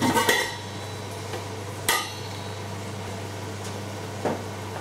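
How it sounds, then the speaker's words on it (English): Metal lid clattering onto a pot of onions cooking on low heat, a sharp clank at the start followed by a couple of lighter taps, over a steady low kitchen hum. "put the lid on."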